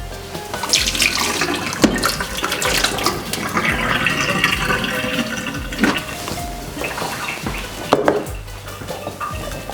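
Water from a pot of boiled tomatoes pours steadily into a kitchen sink, a continuous broadband splashing rush with a few louder surges and clunks of the pot, no talking.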